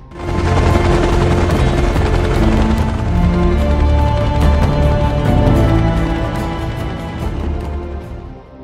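A helicopter roars loud and continuous in an action film scene, a dense thudding rotor and engine wash layered with heavy booms and rapid gunfire-like bursts, fading slightly toward the end.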